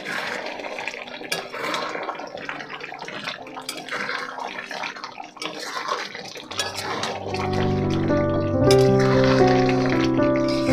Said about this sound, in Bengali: এবার একটু নেড়ে চেড়ে দেব।